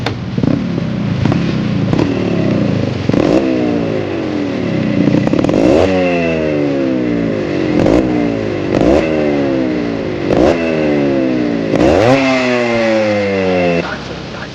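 A Yamaha RX100 motorcycle's two-stroke engine revs repeatedly in sharp, loud bursts, each blip rising and then falling away in a steady rhythm, with occasional clattery edges.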